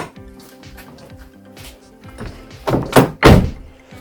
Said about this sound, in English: We check how the front door closes.